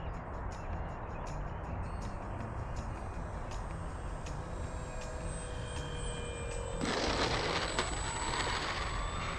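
E-flite Apprentice STS 1.5 m RC trainer airplane flying under throttle, a steady whining electric motor drone that rises in pitch and loudness as throttle increases, with wind noise over the microphone.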